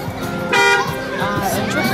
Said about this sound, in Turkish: Bir korna.